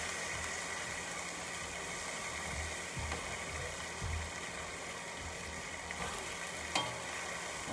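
Chicken coated in barbecue sauce sears in a pan alongside wild onions, giving a steady, soft sizzle and crackle with a few faint clinks of utensils, no talking.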